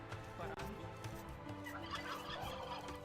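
Turkeys gobbling in the video game Age of Empires 2, repeated rapid gobbles layered over quiet in-game ambience, faint and steady without speech.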